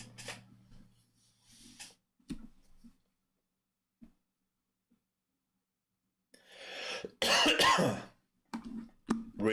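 A few sharp, close coughs and throat clearing break the near silence, with a louder cluster of rough coughs toward the end.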